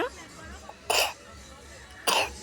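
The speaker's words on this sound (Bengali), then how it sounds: "মামা কাশি হয়ে গেছে" A woman at a fair coughs twice, short raspy bursts spaced about a second apart, close up over a background of faint crowd chatter.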